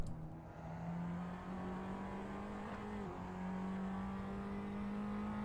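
A race car engine in a Formula Pals racing video game, driving a lap of the Bikernieki track, holds a steady loud drone that shifts pitch briefly mid-lap before settling back to a constant high whine.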